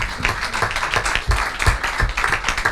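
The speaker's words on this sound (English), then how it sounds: "give them a big round of applause" A room full of people at a township council meeting claps for a group of girls, brisk uneven hand claps close by and fairly loud, sustained throughout with no talk over it.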